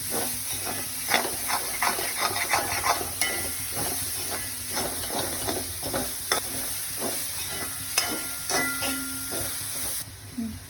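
A spoon scrapes and stirs egg with taro leaves and stems in a pan for a Kerala-style thoran. The strokes come repeatedly over a constant hiss and sizzle, then the sound cuts off near the end.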